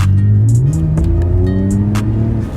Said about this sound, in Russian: Так, нажимаем на газ.